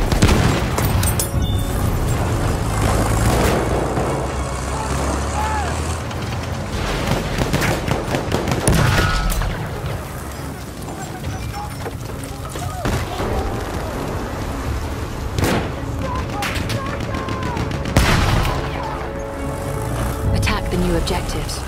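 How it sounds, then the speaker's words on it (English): Artillery barrage in Battlefield 1 on the Sinai Desert map, heard as a continuous roar of distant explosions and rumbling blasts with sharper impacts at intervals, under game voice callouts. "Wait for the enemy artillery barrage to stop firing."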